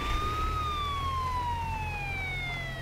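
Ambulance siren from the bridge-building game Poly Bridge 2, a single steady wailing tone that slowly drifts downward in pitch over a low rumble of traffic, moderately loud with no voices.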